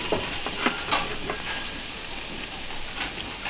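Frozen chicken fries in a covered pan with a steady, close sizzle and occasional sharper pops and crackles, and no one speaks.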